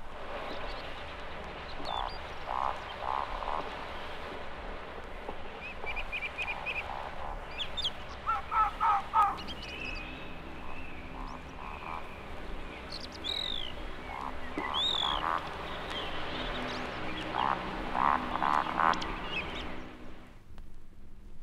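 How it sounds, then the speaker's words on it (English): A woodcock on its roding display flight over British woodland gives strange, amphibian-like croaking calls, repeated through a long stretch over a steady background hiss with occasional sharper twitters. "the woodcock starts its slow owl-like display flight known as roding. It beats its way over or between the trees with a strange amphibian-like call."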